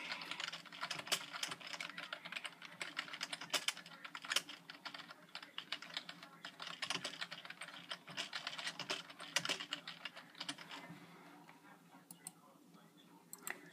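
Rapid, quiet typing on a computer keyboard, with continuous clustered key clicks that go on for more than ten seconds close to the mic, and a faint voice now and then.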